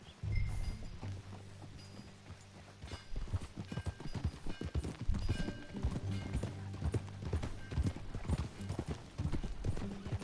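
Horse hooves clip-clop steadily as a mare is ridden in Red Dead Redemption 2, a continuous rhythmic trot close by, with a brief whinny near the start and light background game sounds.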